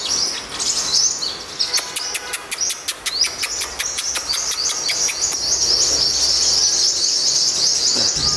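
Yellow-bellied sunbirds chirp steadily and close by, with bright rapid trills and sharp repeated tweets running throughout.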